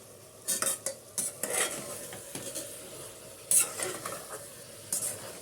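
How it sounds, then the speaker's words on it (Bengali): Chicken with garam masala powder being stirred in a hot pot, a low sizzle running throughout beneath repeated scraping strokes of a spoon and occasional sharp metallic clinks against the pot. "আবার একটু নাড়িয়ে নেব"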